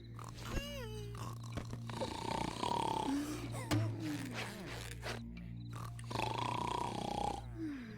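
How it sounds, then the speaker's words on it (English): A cartoon character snores loudly at bedtime in Courage the Cowardly Dog, with long rasping, grunting snore cycles repeating a few times, mixed with other cartoon sound effects and a steady low hum. "It's bedtime and Muriel is snoring it up."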